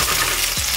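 Fish fillet frying in oil in a skillet, a steady close crackling sizzle throughout with a brief stirring or scraping sound near the end; no one speaks.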